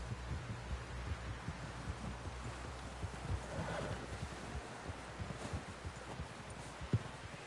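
Steady clip-clop of horse hooves under a low hum, with a faint whinny; the hoofbeats are soft and evenly paced, somewhat distant.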